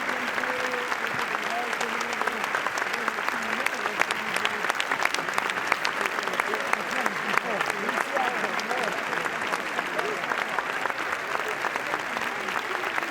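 A crowd applauds a film team arriving on the Cannes red carpet steps, producing steady, dense clapping that holds for the whole stretch, with faint voices mixed into the wash.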